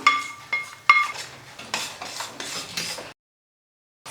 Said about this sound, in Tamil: இப்போ இதில் நம்ம வறுத்து வச்சுருக்கிற முந்திரியும் தேங்காய் பல்லையும் சேர்த்துடலாம்